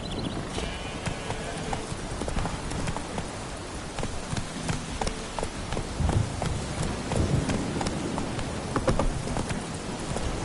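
Roach, a horse in the Witcher 3 video game, gallops with quick, rhythmic clip-clop hoofbeats close by, over a steady patter of rain.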